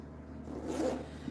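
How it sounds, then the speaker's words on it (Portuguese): A zipper being drawn closed on a handmade fabric bag, one short steady zip of about a second, close and fairly quiet, with no voices. "Deixa eu fechar o zíper aqui."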